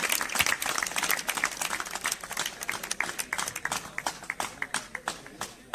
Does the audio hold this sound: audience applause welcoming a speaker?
yes